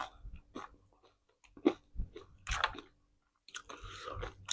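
Crunchy chewing of fried dried frogs and fried pork, an Isan-style meal, heard close to the mouth as wet bites and crunches in uneven bursts with short pauses and breaths, no talking.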